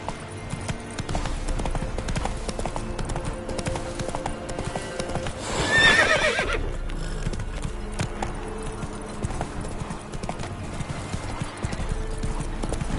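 Roach, a horse in The Witcher 3, gallops with rapid, rhythmic clip-clop hoofbeats throughout, and a sharp whinny cuts through midway over low ambient game sound.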